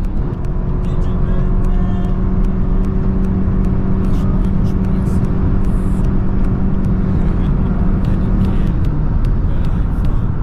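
Lexus ES300h hybrid sedan running flat out on an unrestricted German autobahn, giving a loud, steady engine and road drone with tyre and wind roar held for about nine seconds before the tone eases slightly.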